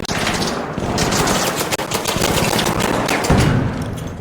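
Rapid, continuous automatic gunfire from a turret in a video game, loud and close, a dense rattling burst running the whole stretch with a heavier thump near the end.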